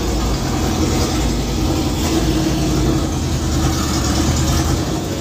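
A 2009 Heritage Softail motorcycle idles with a low exhaust, giving a steady, loud, close rumble that holds evenly throughout with no talking.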